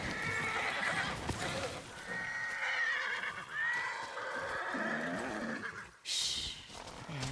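Horses neighing and whinnying in a snowy mountain ridge area in the video game Ghost of Yotei, loud and close, with hoof clip-clop and wind under the calls, a brief gap and another high whinny near the end.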